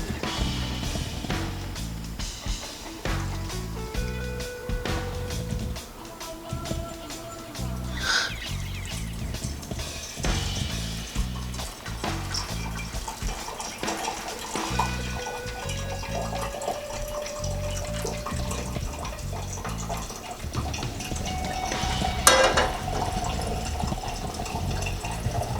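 Cannabis simple syrup pours through a stack of three coffee filters, a continuous trickling, splashing liquid stream running for many seconds with small clinks and rustles around it.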